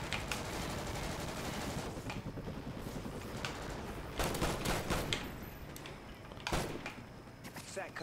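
Rapid gunfire from a gun in the multiplayer video game Call of Duty: Ghosts, continuous bursts of shots with several louder cracks, with a voice talking over parts of it.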